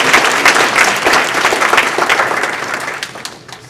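Audience at a fraternity Founders Day celebration giving a round of applause, dense clapping from a crowd that fades out over a few seconds.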